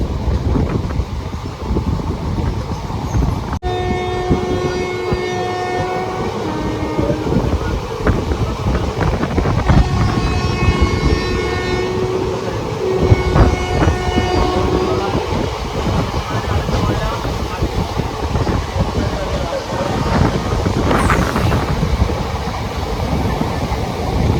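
Train on the Shoranur to Coimbatore route rumbling steadily with strong wind buffeting, a loud horn sounding in long tones midway, recorded from on board.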